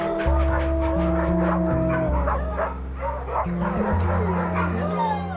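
A small dog yips, barks and whimpers repeatedly in quick, high-pitched bursts over a steady low background hum.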